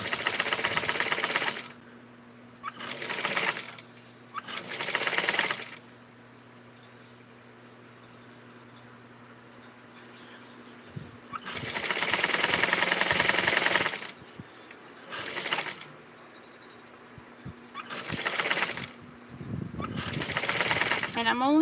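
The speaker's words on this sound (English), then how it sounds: "I'm going to do a little hemming here, as close and as thin as possible." A sewing machine hems fabric in a close, thin seam, running in short rhythmic bursts of rapid mechanical clatter separated by pauses, with a steady hum underneath and quieter handling between runs.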